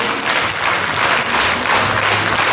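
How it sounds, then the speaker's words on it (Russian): Concert audience at an annual end-of-season performance breaks into a dense, steady wash of applause, many hands clapping at once, loud and continuous with no talk over it. "Аплодисменты, дорогие друзья!"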